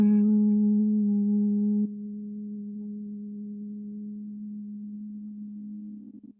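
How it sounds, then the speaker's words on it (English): A steady, gentle hummed tone from a single voice as a vocal warmup, holding one low pitch for several seconds with a slight shift partway through. "we're going to start off with gentle humming."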